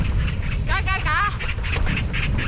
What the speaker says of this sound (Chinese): 喜鹊报喜，这一路的喜鹊真多呀